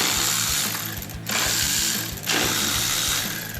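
Hand ratchet loosening 10mm bolts from a car's induction system, rapid loud close clicking of the pawl in two short bursts separated by brief pauses, heard alone.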